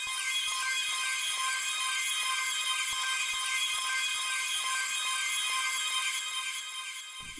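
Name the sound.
ARP one-shot loop from producer's kit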